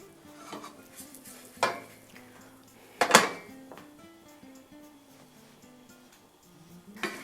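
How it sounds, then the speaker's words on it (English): Braised pork ribs being stirred in a pan over medium heat, with sharp scraping and clanking utensil strikes against the pan at irregular intervals over a faint, continuous sizzle. "So we're mixing this"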